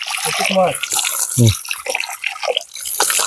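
Cold, clear mountain spring water trickles and drips steadily in the Alagar hills, close and bright, while people talk over it.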